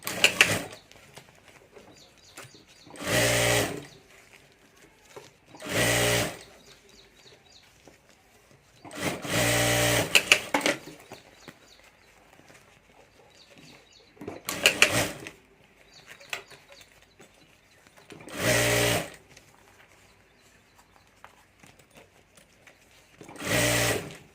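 Sewing machine stitching a handbag at home, running in about seven short bursts of rapid whirring chatter of a second or so each, separated by quiet pauses with faint handling noises.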